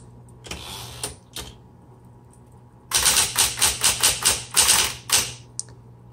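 Typing on a 1970s Smith Corona Coronet Electric 12 electric typewriter: a few isolated key strikes, then a quick run of loud, crisp, evenly paced clacks close up.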